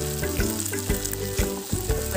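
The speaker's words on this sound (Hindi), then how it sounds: "अब हम इसमें अंडा डाल देंगे। लो फ्लेम पे हम इसको अच्छी तरीके से फ्राई कर लेंगे।" An egg frying in hot refined oil over a low flame for egg chowmein, heard as a loud, steady close sizzle with a regular scraping stir, and no voices.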